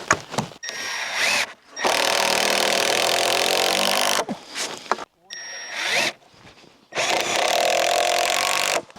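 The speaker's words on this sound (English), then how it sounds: "I'll just screw this in, call it a day." A power drill drives screws into a 2x6 wooden board while a workbench is built, with long whirring runs broken by short pauses and handling noise, close and loud, with no talking.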